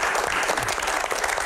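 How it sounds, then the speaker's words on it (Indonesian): Audience applause at an Indonesian Q&A show, a dense loud burst of clapping that fills the whole moment without a break. "Tepuk tangan."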